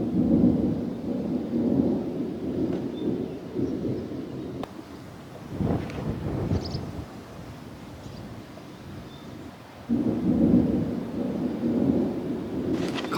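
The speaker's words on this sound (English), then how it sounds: "I can hear thunder in the distance," Low, distant rumbles of thunder roll through the background, swelling and fading over several seconds with a steady outdoor wash of wind and rain, at an off-grid homestead in Portugal.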